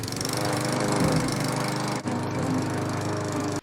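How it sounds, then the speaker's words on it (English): A lawn mower running steadily while mowing a lawn in Florida, a loud, close droning engine with a rough buzzing texture and a brief dip midway before cutting off at the end. "mowing the lawn in Florida"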